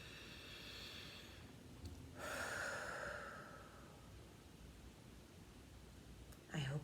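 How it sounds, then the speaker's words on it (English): One slow, deep breath is taken during a guided tapping session: a soft, close inhale and exhale rising out of quiet room noise. "Let's take a breath."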